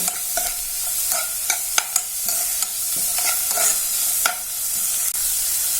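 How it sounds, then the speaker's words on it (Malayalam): Onion and carrot sautéing in a pan for Maggi masala noodles: a steady sizzle broken by repeated sharp scrapes and clicks of a spoon stirring against the pan, close and fairly loud, with no talking. "ഇനി ഇതൊന്ന് ഈ സവാളയും ക്യാരറ്റും ഒക്കെ ഒന്ന് നല്ലപോലെ ഒന്ന് വഴന്നു വരണം."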